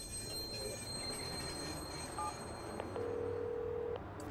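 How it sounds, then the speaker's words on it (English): A southbound train rolls past in the game Watch_Dogs, a continuous rumbling rail noise with a sustained squealing tone near the end, no voices over it. "Southbound train."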